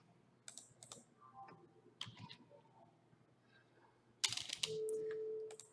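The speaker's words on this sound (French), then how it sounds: "C'est juste pour tester le clavier." Scattered computer keyboard key clicks, some in quick bursts, with a short electronic tone near the end, during a Windows 2000 Server installation.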